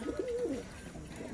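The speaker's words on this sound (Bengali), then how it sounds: "নটটার প্রচুর ডাক সবসময় ডাকে মাদিদের পেছনে" A male pigeon coos in a single low, rolling phrase during the first half-second, then a soft note returns near the end. The sound is close and clear, with light ambient noise from the coop with its females and no voices.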